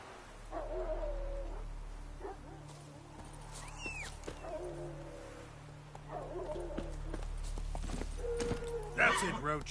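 Hooves of the horse Roach from The Witcher 3 clop along at a steady pace beneath background music and a voice talking, the footfalls moderate and somewhat close.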